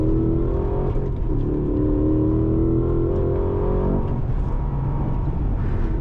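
A 2025 Cadillac CT5-V Blackwing Precision Edition pulls hard at full power out of a corner on a race track, its engine note climbing and roaring loudly and steadily throughout without speech.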